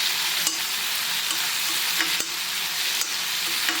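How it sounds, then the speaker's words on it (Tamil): Tomato chutney sautés in a pan with a steady close sizzle and spitting crackle, while a spatula scrapes and taps the pan every second or so. "நல்லா வதக்கலாம்."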